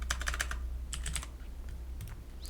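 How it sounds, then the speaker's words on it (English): Computer keyboard keys typed in short rapid bursts, a quick cluster of clicks, a pause, then another flurry of clacks, fairly close and clear with faint background hum and no talking. "First click here and then type task manager,"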